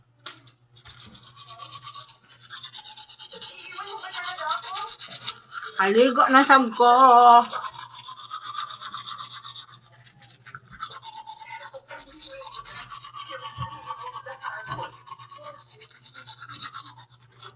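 A toothbrush scrubs with a soft scratchy rasp, steady through most of the stretch, with a louder bristly burst midway and quiet speech here and there.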